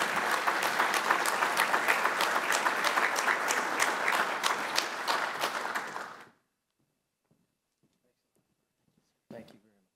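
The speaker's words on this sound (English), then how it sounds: "Please give a warm applause and welcome General Fenton" Warm audience applause at a summit keynote welcoming General Fenton, a loud steady roar of many clapping hands for about six seconds that cuts off abruptly into near silence, followed by a brief faint noise.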